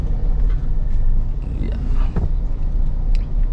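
Manual car pulling away slowly in first gear, a low steady engine rumble with faint road noise, continuous and close throughout, with no talk.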